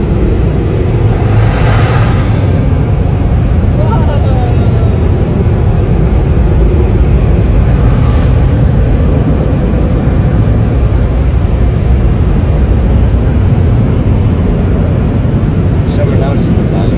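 Car wash dryer blowers roar loudly and continuously around a car driving through the wash, a dense, unbroken broadband rush that holds steady throughout.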